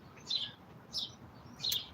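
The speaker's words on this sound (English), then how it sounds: "Birds are going off." Birds chirping outdoors at feeding time, three short bright calls spaced about half a second apart over a soft, steady ambient background.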